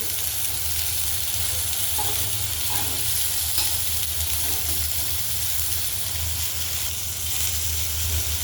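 Ginger-garlic paste sizzles in a hot pan for a Telugu dried anchovy and tomato curry. The frying is a loud, continuous hiss with a few soft stirring clinks and scrapes in the middle. No one speaks.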